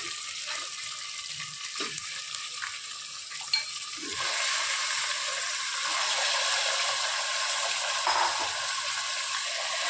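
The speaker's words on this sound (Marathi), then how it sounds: "आणि मटण पण आपण कलर चेंज होईपर्यंत परतून घ्यायचे।" Mutton pieces sizzle and fry in a hot pan, a continuous bright crackling hiss that grows fuller after a few seconds, with occasional soft scraping and knocks of stirring close by.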